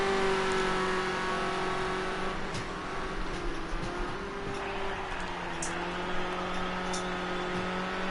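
A race car, an Escort RS 1600 in a sim racing game at Hockenheim National, passes with a steady engine drone and whine that shifts pitch, loud and continuous for several seconds with no talk over it.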